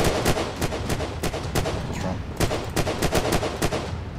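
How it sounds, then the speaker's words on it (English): Rapid, loud gunfire from the Unturned video game rattles in dense bursts almost without pause, with sharp repeated cracks throughout. "I'm taking the first shot."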